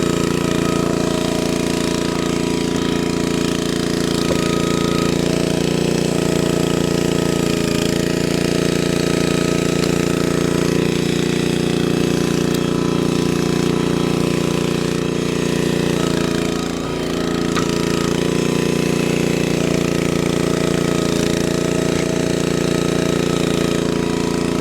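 Gas-powered vertical log splitter with its engine running while splitting big logs, a loud steady knocking engine drone close by, continuous throughout with a slight dip in the middle as the load changes; no talking.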